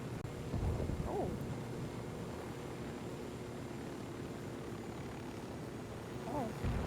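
Two helicopters flying in a video game, a steady low rotor drone running throughout at moderate level, with faint voices briefly rising over it near the start and end.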